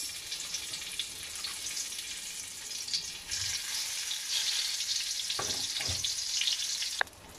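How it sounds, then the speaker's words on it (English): Brinjals frying in two tablespoons of hot oil in a pan, a steady close sizzle that swells as pieces go in, with a few sharp clatters near the end. "So the oil is hot. To this we place in the brinjals."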